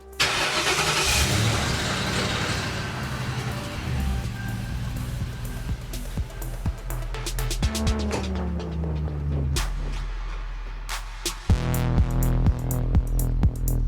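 A vehicle pulls out of a driveway onto the I-90 highway, its engine throbbing steadily and loud throughout, with rising revs and passing road noise as it accelerates and merges.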